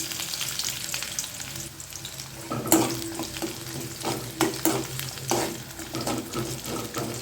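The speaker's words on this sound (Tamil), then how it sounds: "பொடியை கட் பண்ணி வச்சுருக்கேன் இஞ்சி சேர்த்துக்கோங்க" Minced garlic and ginger sauté in a frying pan with dried red chillies, a continuous crackling sizzle broken by several sharp scrapes and clinks of a spoon against the pan, close and moderately loud.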